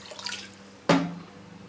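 Rice for aloo pulao is rinsed in water: faint trickling gives way to one sharp, close splash and slosh that quickly fades.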